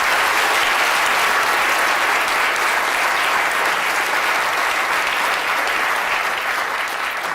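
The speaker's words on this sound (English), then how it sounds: "Well, give Nathan a big round of applause." Sustained, loud audience applause in a studio for a guest named Nathan, a steady wash of many hands clapping at once that stays level throughout, with no speech over it.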